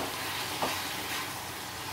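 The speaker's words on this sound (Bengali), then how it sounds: "সেই জন্য আমি একটু জল দিয়ে মশলাটাকে কষিয়ে নেব।" Spice paste frying in a pan with a little water, giving a continuous, fairly loud bubbling sizzle close by, with one brief stirring scrape partway through and no voices.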